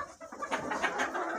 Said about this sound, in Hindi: ये देखें कितने डेली अंडे ये मुर्गियाँ